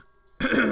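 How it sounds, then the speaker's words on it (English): A single short cough bursts out suddenly after a near-silent pause, close to the microphone and fairly loud, with no speech around it. "Cough."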